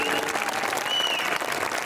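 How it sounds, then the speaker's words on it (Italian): Audience applause at a concert in Ovaro, a brief, dense burst of clapping from a hall full of listeners, steady and fairly close throughout. "Un applauso anche a Mia."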